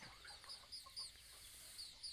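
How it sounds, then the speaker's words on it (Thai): Wild jungle fowl cluck and cheep softly at close range, a quick series of short high chirps and low clucks over faint background noise. "ไก่ป่าธรรมชาตินะครับ"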